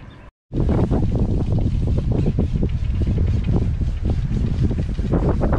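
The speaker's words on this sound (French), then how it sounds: "le vent s'est mis à souffler" Wind blows hard across an outdoor freshwater rod-fishing spot, producing loud, close, continuous rumbling gusts that buffet the microphone after a brief silent gap at the start.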